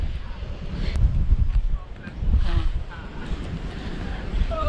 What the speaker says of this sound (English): It's windy. It's really windy